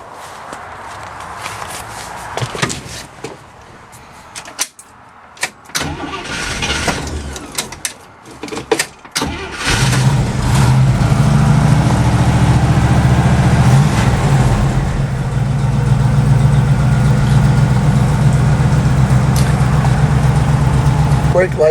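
A 1973 International Scout II 4x4 with a 345 engine cranks briefly, catches and settles into a steady, loud, close idle that continues, with footsteps and handling noises before the start.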